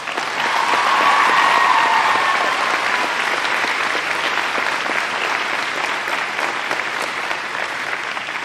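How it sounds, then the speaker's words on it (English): A 2016 high school graduation audience at Osan American High School applauds the singers of the Korean and U.S. national anthems. The clapping is dense and sustained for over eight seconds, with no voices over it. "I think they deserve a round of applause."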